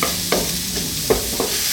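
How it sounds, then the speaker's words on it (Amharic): Onions sizzling in a pot for Ethiopian injera siga firfir, a steady hiss of frying under a few sharp knocks and scrapes from stirring, heard close with no talking. "ሽንኩርታችንን በደንብ አድርገን እንጠብስና"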